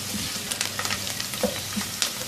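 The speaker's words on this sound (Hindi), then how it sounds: "1-2 मिनट इस प्याज को इस तेल में फ्राई करेंगे कि ये ज़रा नरम पड़ जाए।" Medium-sized sliced onions fry in hot oil in a pan, a steady close sizzle with soft crackles and occasional stirring scrapes and taps, and no talk.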